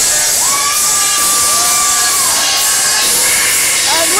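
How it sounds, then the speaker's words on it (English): A dense, loud roar from a wrestling tournament crowd, sustained cheering and shouting that fills the whole stretch with a steady wash of noise. "And listen to this crowd!"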